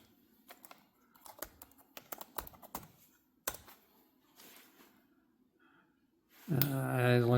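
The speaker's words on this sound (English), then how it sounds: "As long as I type it in correctly." Keys clack in quick irregular bursts as a password is typed on an HP Chromebook 14a G5 keyboard, close and crisp, followed by someone speaking.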